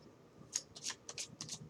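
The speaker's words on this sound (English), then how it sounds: "So I'm going to shuffle those" Tarot cards are shuffled in a few quick, soft riffles and slides, close and quiet, with no voices.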